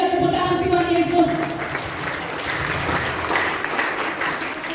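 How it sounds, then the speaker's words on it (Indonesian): A church congregation applauds during a Christmas service at GPPS Eben Haezar in Brebes: dense, sustained clapping from a crowd that fills the room, with some voices mixed in, gradually softening toward the end. "Haleluya, tepuk tangan Tuhan Yesus."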